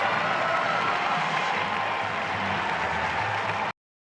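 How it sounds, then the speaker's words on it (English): Stadium crowd in Birmingham applauding and cheering a champion's winning run, a dense, steady roar of clapping that stops abruptly. "The crowd are on their feet saluting a wonderful run from a great champion"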